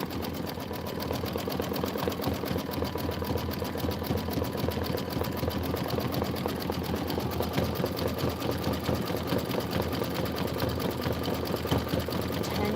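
An embroidery machine stitching penguin eyes, nose and body detail hums with a rapid, steady needle chatter, close and unbroken throughout, with no pauses.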